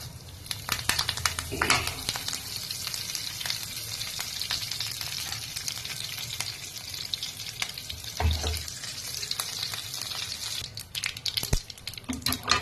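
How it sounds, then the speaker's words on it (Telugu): Tempering spices and curry leaves fry in hot oil with a continuous crackling sizzle, close up, broken by a few stirring scrapes and clinks from a spoon against the pan. "ఇప్పుడు పోపు అంతా వేగిపోయిందండి"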